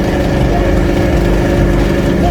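A drag racing truck engine idling roughly at the start line, a loud continuous low rumble with a fast rattling pulse throughout.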